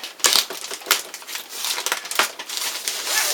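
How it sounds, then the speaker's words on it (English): A letter opener slices through plastic packaging around a Lightdow 6000 action camera, giving close, crisp crinkling and crunching in uneven bursts with sharp snaps. "it's just a letter opener. Sharp enough to cut through plastic"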